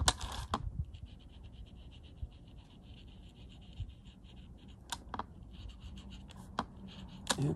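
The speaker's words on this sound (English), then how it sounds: "We'll come through with our charcoal pencil and make this really pretty." A charcoal pencil is stroked lightly across paper while shading a Zentangle blossom drawing, giving soft close scratchy strokes with a few sharper ticks, quiet and alone.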